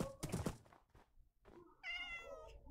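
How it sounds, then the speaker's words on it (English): A cat meows in the Minecraft video game, with a few soft thunks and knocks early on, then a clear, tonal, drawn-out meow near the end, heard close and alone. "Is that a cat?"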